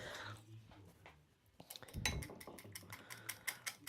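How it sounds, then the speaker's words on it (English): A whisk clinks briskly against a bowl while beating a cheese mixture for fettuccine alla papalina, a run of rapid metallic taps starting halfway through, close and fairly quiet. "all I've got to do is just whisk this together"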